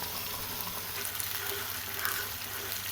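Paste of ground almonds and dried figs frying and sizzling in ghee for anjeer badam halwa, a steady close crackle with light stirring throughout, no talk.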